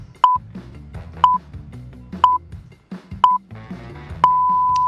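Quiz countdown timer beeping, five sharp beeps about a second apart, the last one held as a long steady tone, with faint background sound between them and no talk.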